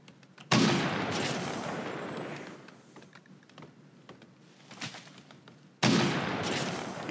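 Gunfire from an odd weapon in the video game RimWorld, two loud sustained bursts of rapid shooting several seconds apart, with scattered fainter clicks and pops between them.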